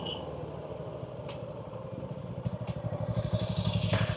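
A motorcycle climbs a rough, bumpy uphill road near Marmala Falls in Vagamon, Kerala, its engine thumping in a rapid, pulsing rhythm that grows louder and harsher, with occasional clatter and no talk.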